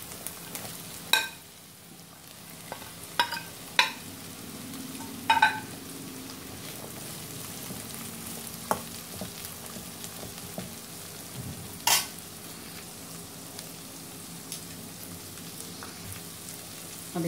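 Capsicum and cabbage stir-fried in a pan for egg chilli, a soft steady sizzle broken by sharp clinks and scrapes of a spatula at irregular moments, fairly quiet and with no talking.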